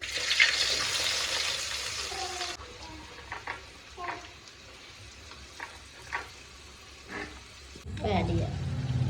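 Mustard seeds, fenugreek, shallots, garlic, ginger and green chilli frying in a pan, a bright sizzle that drops to a softer crackle with scattered pops and stirring, then surges again, under a talking voice.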